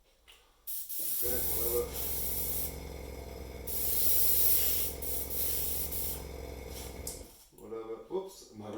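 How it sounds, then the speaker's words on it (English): An airbrush sprays water through its cup in a steady close hiss lasting several seconds, with brief clicks and handling noise at start and end and a short spoken remark afterward. "Get it going through, spray a bit more."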